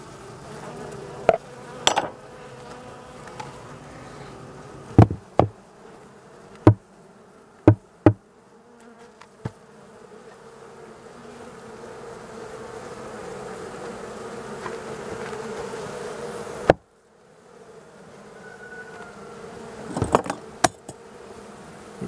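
Honeybees buzz in a low, steady drone at a hive during a morning inspection, with sharp clicks and knocks of frames and hive parts scattered throughout.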